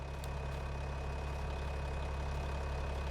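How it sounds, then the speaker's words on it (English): A tractor engine idling in Farming Simulator 25, a steady, low, throbbing rumble with a constant even pulse, unbroken and close. "Look at this tractor, right?"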